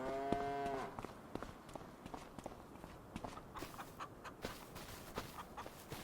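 Cattle in Farming Simulator 25 moo briefly at the start, followed by scattered footsteps and light clatter, fairly faint and close.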